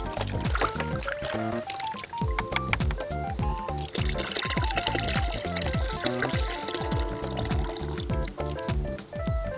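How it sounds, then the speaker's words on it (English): Leftover foam cannon car-wash soap dumped from the reservoir into a half-filled bucket of water, a continuous splashing pour with gurgling and trickling, heard over background music. "I'm going to take whatever's left in my foam cannon reservoir and I'm going to dump it on in there."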